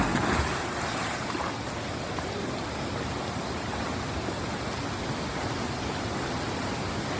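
Rushing water at Atla waterfall in Kerala fills the scene with a steady, dense, broadband roar, constant and loud throughout with no voices.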